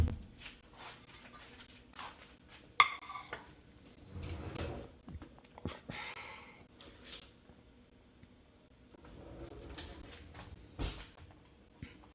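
Cooked idlis being lifted and scraped off an oil-sprayed idli plate with a utensil, giving scattered light metallic clinks, scrapes and taps at close range in a quiet kitchen, with brief pauses between movements.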